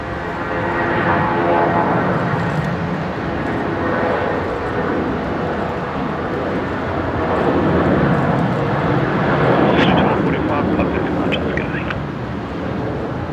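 Jetstar airliner rolling for takeoff at Brisbane Airport, a steady, loud broadband jet roar that swells slightly toward the end, with brief faint voices underneath.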